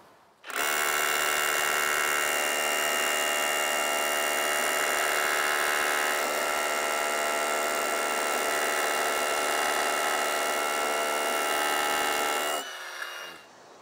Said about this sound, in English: So the first thing we need to do is drill our hole,